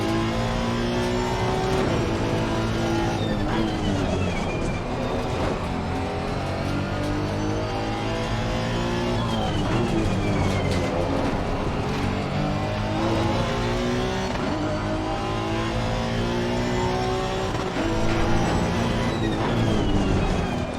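A race car engine in a sim racing game drones continuously at high revs, with repeated upshifts, downshifts and rising and falling pitch through corners, loud and close with no talk over it.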